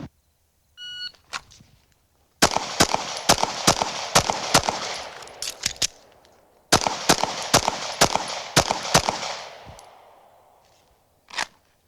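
Pistol shots fired in two rapid strings during an El Presidente drill on a range, loud sharp cracks about a dozen per string with a pause between, preceded by faint beeps from a shot timer.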